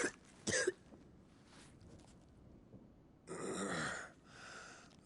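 A short, harsh cough from a Final Fantasy XVI character coughing blood bursts out, followed after a pause by a longer rasping cough and a fainter breathy trailing sound.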